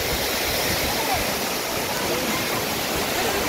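Manthoka Waterfall in Skardu, Gilgit Baltistan roars in a steady, loud, unbroken rush of falling water, filling the whole stretch with no pauses and no voices.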